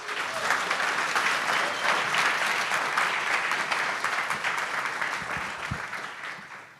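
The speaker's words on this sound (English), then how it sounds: "So please give a huge round of applause." Conference audience at a tech event in Prague applauding the organizers and sponsors, a sustained round of many hands clapping at moderate distance, slowly tapering toward the end with a few isolated claps.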